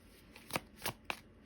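Tarot cards riffle and slap in three quick, close bursts as they are shuffled and drawn, soft and crisp against a quiet room.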